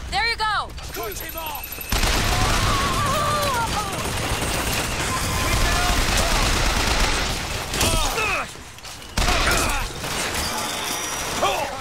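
Gunfire and mechanical weapon sounds in the video game BioShock Infinite, loud bursts and clattering shots over dense combat noise, with voices shouting amid the fighting.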